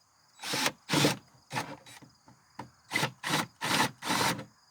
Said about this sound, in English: you want to drill a hole slower than that in the spade bits